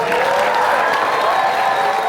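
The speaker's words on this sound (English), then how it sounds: "please give a big shout and applause for our white bat crew" Audience at the Midsummer Scream horror convention applauds and cheers for the event crew, a close, continuous roar of clapping and shouts that holds steady throughout.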